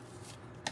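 Tarot cards are shuffled in a short, soft riffling burst ending in a crisp snap, close and quiet, with no voices.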